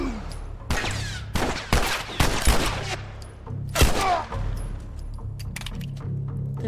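Gunfire in The Last of Us video game: a rapid cluster of loud, close shots and cracks in the first four seconds, then quieter game ambience, with no talking.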